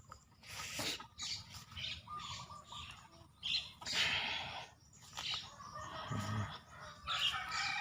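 A flock of chickens runs about on a rural Thai morning, with scattered clucks, squawks and rustling scuffles coming in irregular bursts, fairly faint and close, with no talk.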